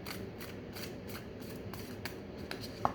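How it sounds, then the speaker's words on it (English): Rainbow Moon Tarot cards being shuffled by hand, a quiet run of soft papery flicks and riffles repeating in a steady rhythm, with no talking. "I'm just picking decks like as I want to shuffle them"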